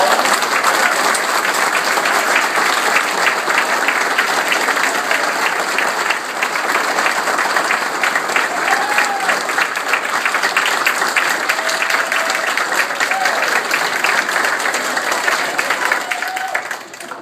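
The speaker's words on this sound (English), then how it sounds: "Round of applause." Dense, steady applause from an audience at a workplace promotion ceremony, sustained and fairly loud for the whole stretch with a few faint whistles rising above the clapping before it tapers at the end.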